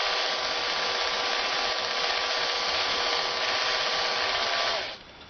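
A power drill winds wire into a small spring, a steady whirring rub that runs for several seconds and then cuts off abruptly near the end.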